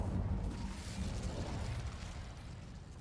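A fiery Incendio spell erupts in Hogwarts Legacy, a loud, sustained roaring whoosh of flame with a burst at the start, rumbling steadily for about three seconds with no talking.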